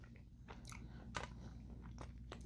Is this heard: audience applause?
no